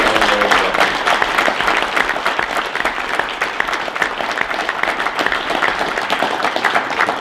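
Loud, sustained applause from a crowd at a hockey honour roll dinner event, steady dense clapping filling the room without a break.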